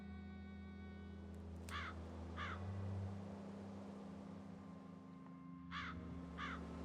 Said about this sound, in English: Large black crows.